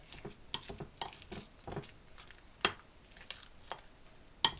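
A spoon scrapes and stirs pie filling with butter in a pan with soft sizzling underneath, sharp clinks against the metal now and then, close up.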